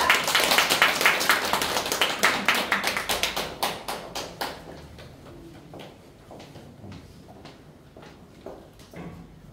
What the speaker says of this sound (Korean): 환영의 박수 부탁합니다